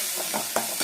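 Chopped big onions for a village-style crab fry cook in a pan, giving a steady close sizzle with a few brief stirring scrapes.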